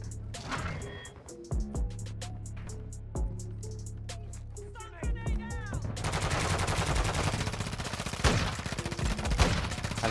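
SAB-50 rifle fire in Call of Duty MW2, with sharp separated shots early on, then a denser, louder stretch of gunfire and mechanical clatter, all close and prominent, with a voice speaking underneath.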